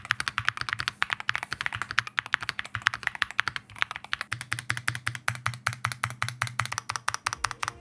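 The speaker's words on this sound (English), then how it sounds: "I'm hoping people don't pick up on the sounds when I'm typing." Rapid typing on a Corsair Galleon 100 SD keyboard with sound dampening, a steady stream of soft, close key clicks in an even rhythm, alone.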